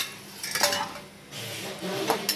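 Egg curry is served into a bowl with a few clinks and scrapes of a metal ladle and dish in a home kitchen, two clustered bursts of clatter separated by a short quiet moment.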